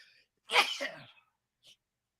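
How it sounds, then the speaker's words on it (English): A single sharp sneeze, close and sudden, followed by a brief faint sniff in an otherwise quiet room. "You gotta sneeze."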